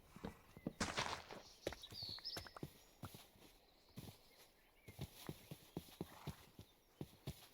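Horse hooves clip-clop across the ground in the Minecraft video game, a quick, uneven run of sharp, fairly close taps that ends with a brief rustle.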